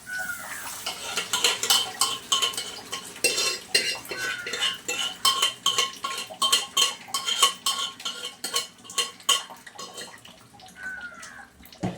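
Curry ladled into a serving dish, a steady run of close metallic clinks and scrapes of spoon against pot and plate, repeated in quick uneven strokes with soft wet plops, no voices.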